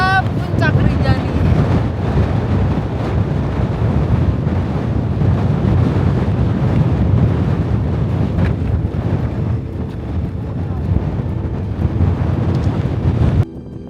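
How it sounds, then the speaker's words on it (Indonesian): Strong, roaring wind buffets the microphone near the summit of Mount Rinjani, a loud, continuous rumble that holds steady for the whole stretch with no pauses. "Meskipun dalam kondisi angin yang super duper kencang"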